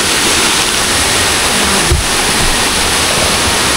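Steady, loud rush of falling water at a waterfall called Haunted Falls, a dense continuous roar filling the whole stretch with no voices over it.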